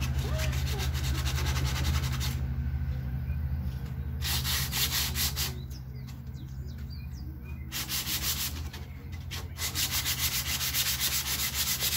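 Hand sanding with sandpaper, a steady rough rubbing and scraping that continues through the whole stretch, with brief pauses between strokes and a low hum underneath.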